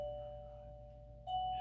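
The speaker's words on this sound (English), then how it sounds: "So I'm gonna go ahead and have the doorbell ring" An electronic doorbell chime sounds twice, a sustained tone followed by a second, brighter ding near the end, clear over a quiet room hum.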